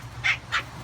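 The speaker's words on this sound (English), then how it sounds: "Puppies are all playing out on the deck." Two short, high yips from puppies playing out on a sunny deck, quick and close together, over faint background noise.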